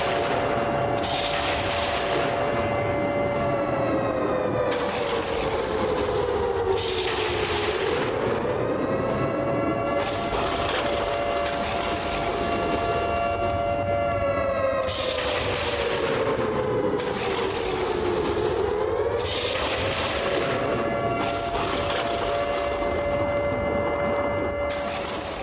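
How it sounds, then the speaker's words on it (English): Arena siren blaring for the Pittsburgh Roughnecks at a football game, a loud, sustained wailing tone that slowly rises and falls over pulsing bursts of noise, running continuously for the whole stretch. "Let the siren play for Pittsburgh"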